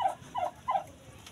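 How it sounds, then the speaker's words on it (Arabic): A domestic turkey hen, showing signs of being ready to lay, gives three short, evenly spaced clucking calls at moderate volume, with no other sound around them. "فرخه الرومي ديت مش مبطله انها تكوك من اول الفيديو زي ما انتوا شايفين كده"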